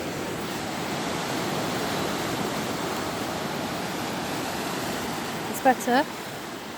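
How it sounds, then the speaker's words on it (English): Sea waves washing against a cliff at Flamborough beach, a steady broad roar of surf filling the whole stretch, with a voice speaking briefly near the end. "Look at the waves up against this cliff"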